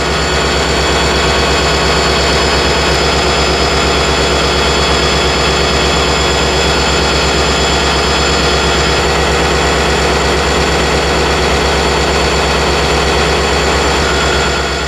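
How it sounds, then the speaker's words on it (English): A diesel locomotive engine throttles up as its air compressor runs, giving a loud, continuous, heavy mechanical drone with a deep throb underneath and no voices. "The engine throttles up now while the air compressor does its work."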